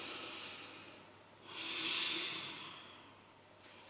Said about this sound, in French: c'est un petit peu la respiration qui fait le bruit de la mer ou la respiration d'Arvador.